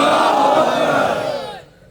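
A large crowd at a devotional gathering roars back a loud, sustained shout in response to a Nara-e-Takbeer chant, the massed voices holding together before fading out near the end.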